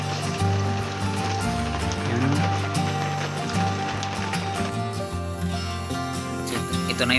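Steady rain falls outdoors around a farmyard, a dense continuous hiss of drops hitting surfaces that stays loud and even throughout, with no voices.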